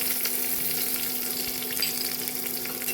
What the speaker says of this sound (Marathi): आता मिरची कढीपत्ता आता टाकूया.